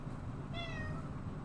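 A single cat meows once in a drawn-out, rising and falling call over a steady low hum in an indoor room. It is clear and fairly close, with no voices.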